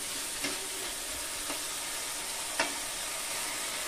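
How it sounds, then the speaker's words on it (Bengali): Potatoes frying in oil with spices in a pan, a steady bright sizzle with a few soft stirring scrapes. "আলুগুলো আমি মশলার ভিতরে ভেজে নেব"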